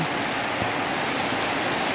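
Steady rain pours down over a flooded school ground, a dense, even hiss of drops spread wide with no pauses and no voices.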